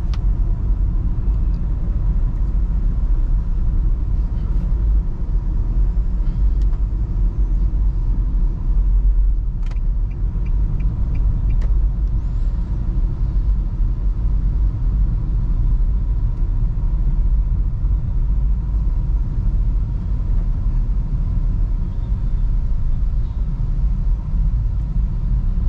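Steady low engine and road rumble inside a 2017 Nissan Grand Livina SV automatic on the move, a constant muffled drone with faint cabin ticks and no talk.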